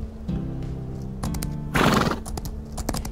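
A horse in The Moirai Project game gives a loud, close whinny amid clip-clop hoofbeats and a short musical phrase, the neigh peaking sharply in the middle.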